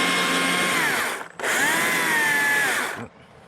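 A battery-powered chainsaw power-carves the wing of a wooden cardinal, two loud close revving bursts of whining cutting, each over a second long with a brief drop between, then quiet.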